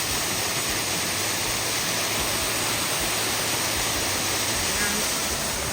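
Waterfall in New Hampshire rushing beneath a bridge, a dense, steady roar of falling water that fills the scene from start to finish with no pauses and no voices.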